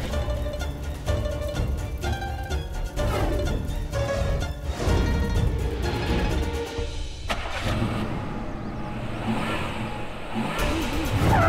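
A car's engine revs hard while the vehicle stays stuck and won't move, a loud sustained mechanical roar that rises and surges, then drops off sharply partway through before noisy rumbling resumes.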